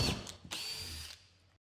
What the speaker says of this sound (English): Now take your drill and 7mm drill bit and bore the holes.